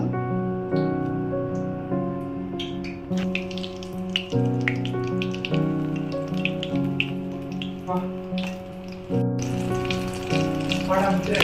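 Mushroom nuggets deep-fry in hot oil with bursts of crackling and sizzling, partly under a prominent tonal voice or music that carries through the whole stretch.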